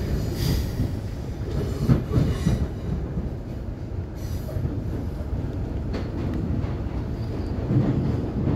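A Redcliffe Peninsula commuter train runs express, a steady, moderately loud rumble of wheels on rails with faint clicks and squeals, and no talking.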